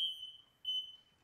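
A smoke alarm gives two sharp, high-pitched beeps, separated by a brief pause, with near silence around them.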